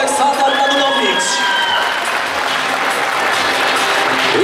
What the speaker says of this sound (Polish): Wielkie brawa dla niego, Aleksandar Radulowicz.